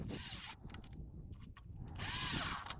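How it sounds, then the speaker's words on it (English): A power drill drives a screw through a wooden bolt cover on a shipping container locking bar, two short whirring bursts separated by a pause, close but quiet. "we'll go ahead and screw the cover over top of it"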